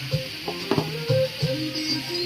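Curry leaves sizzle as they are sautéed in melted butter for a prawn butter dish, a soft, steady frying hiss with light stirring clinks up close.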